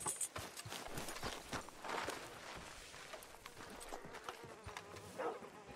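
Horse hooves clip-clop at an easy walking pace in Red Dead Redemption 2, quiet irregular thuds with faint ambient buzzing around them and no speech.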